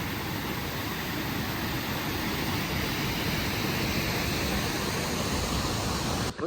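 A waterfall on the Kedarnath trek roars in a steady, dense rush of broadband noise that stays loud and unbroken throughout, with no voices over it.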